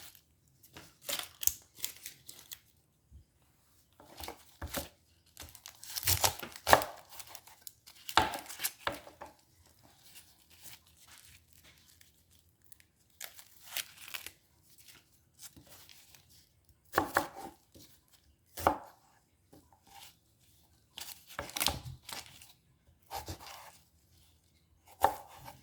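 A knife chops onion on a cutting board in uneven bursts of sharp, close taps separated by pauses, a quiet kitchen with no talking.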